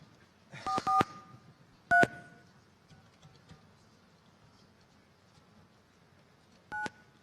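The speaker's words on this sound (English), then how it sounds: "I'll dial the phone." Telephone keypad dialing tones: a quick burst of three short touch-tone beeps, a fourth a second later, then one more after a long pause, close and clear over faint background hiss.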